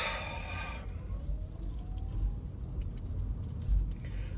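A car backs out from a gas pump in a busy QuikTrip parking lot, its engine a steady low rumble amid broad traffic noise, with a faint rising whine partway through and no talking.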